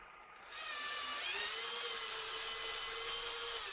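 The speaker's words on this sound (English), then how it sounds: "Now, using the pilot hole, we drill through again," A drill whines steadily through a plastic landing net spreader block, using a pilot hole, starting after a brief quieter moment and holding a high, even pitch at close range.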